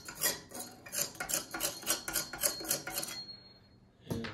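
Metal tool scraping out the cast iron burn pot of a Ravelli Francesca pellet stove, a run of close, gritty rasping strokes in steady rhythm for about three seconds, then a pause and one last knock.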